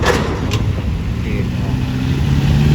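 A bus drives off a ferry at a port, its engine a steady, close, full rumble that holds through the whole stretch, with voices faintly in the background.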